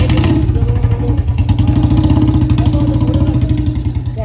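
Royal Enfield Bullet motorcycle with a modified silencer running close by, a loud, deep, evenly thumping exhaust beat that holds steady throughout.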